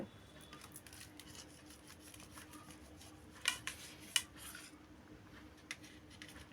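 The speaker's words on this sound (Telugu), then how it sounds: "ఇప్పుడు పీసులు వేసుకుంటున్నానండి" A knife cuts ghee-rich Karachi halwa into pieces on a plate, giving faint scattered clicks and scrapes of metal against the dish. A few sharper taps stand out over a quiet low hum.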